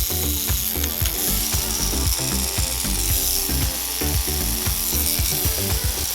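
A Bishop Microangelo rotary tattoo machine running with a needle cartridge fitted gives a continuous, loud, close mechanical buzz with a gritty, ratcheting texture and no talking.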